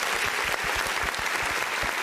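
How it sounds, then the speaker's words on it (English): Listeners at a grand opening event in Gastonia applaud together, a brief, loud, continuous burst of clapping filling the moment. "give Gastonia a round of applause"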